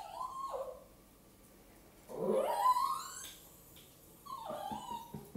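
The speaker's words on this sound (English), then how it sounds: "My dog is making weird noises." A dog makes odd whimpering noises indoors: a short, high whine, then a longer rising, wavering howl-like cry, then another whimper trailing into soft yips, fairly faint against a quiet room.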